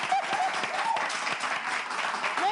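An audience at a live French-language show breaks into applause, with dense, steady clapping filling the room throughout.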